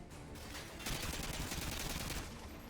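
Gunfire in Modern Warfare 2 Spec Ops on Veteran difficulty: a dense, continuous burst of automatic fire that swells louder midway and then eases off. No voices.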